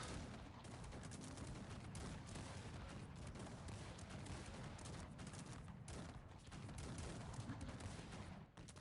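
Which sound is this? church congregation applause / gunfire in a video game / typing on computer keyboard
gunfire in a video game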